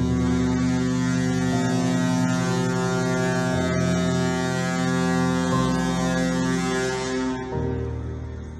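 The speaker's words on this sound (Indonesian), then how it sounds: "Dan ini adalah suara klakson atau suling dari KM Binaya." Long, loud horn blast from the Pelni passenger ship KM Binaiya, a steady deep tone with a slight pitch shift partway through, holding for about seven seconds before fading out.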